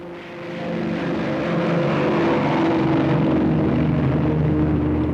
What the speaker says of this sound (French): Parmi les plus puissants, le Short Sunderland de la défense côtière de la RAF.